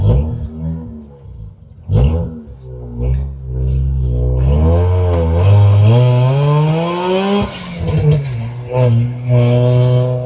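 A Mazda RX-8 track car's rotary engine idling and revving, its buzzy, high-pitched drone climbing in pitch and easing back, heard up close with a brief blip near the start.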